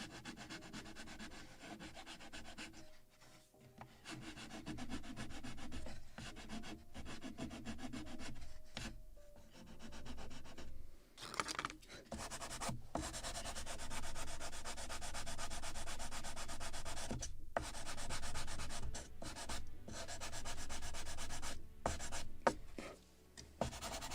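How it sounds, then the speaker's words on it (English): Fine 400-grit sandpaper rubs steadily over the wooden hull of a model 1776 gunboat Philadelphia, a close, continuous scratchy hiss in long strokes with brief pauses between passes. "And I will use 400 sandpaper to finalize,"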